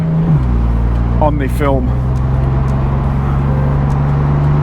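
Engine of a 2020 BMW M4 Competition Convertible droning steadily from inside the cabin, with low rumble throughout and a short rising-falling sweep early on, a voice talking briefly over it.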